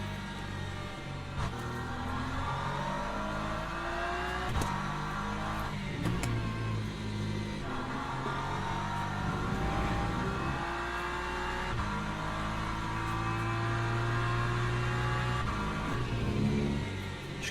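Hypercars and other racing cars roaring in the Le Mans Ultimate video game, engines revving and shifting through gears with cars passing close by, loud and continuous with rising and falling pitch.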